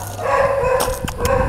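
A dog gives quick, high yips and short barks in a rapid run, close to the microphone, with whimpering in between and no speech.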